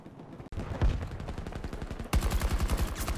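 M5A3 rifle fire in the video game Battlefield 2042, sustained rapid automatic bursts with a brief break, loud and dense, heavier toward the end.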